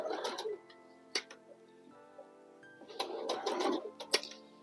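Bernette sewing machine stitching fabric with a special presser foot, two bursts of fast, steady mechanical whirring stitching separated by a quieter pause with a few clicks, close and fairly soft.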